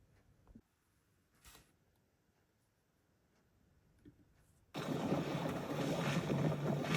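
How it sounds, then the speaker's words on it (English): A small sailboat with two-square-metre sails out sailing at Dunedin, New Zealand: a few faint ticks and knocks over near-silence, then a sudden loud, steady rush of wind and water noise that fills the last couple of seconds. "Here's the sailing in Dunedin"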